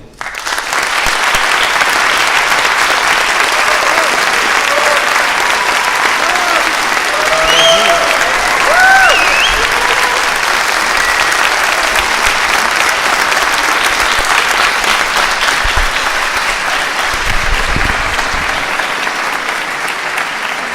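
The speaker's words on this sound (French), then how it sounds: "Je vous propose d'accueillir sous applaudissements Monsieur Joe Dante." Sustained applause from a festival audience welcoming film director Joe Dante to a masterclass, a long dense even roar of clapping from a large crowd that carries on for about twenty seconds.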